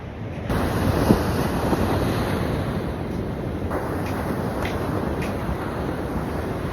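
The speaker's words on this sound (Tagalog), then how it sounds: "Ang lalakas ng alon, no?" Strong waves breaking on Liwliwa Beach in Zambales at dawn, a loud continuous roar of surf with heavy wind buffeting the microphone throughout.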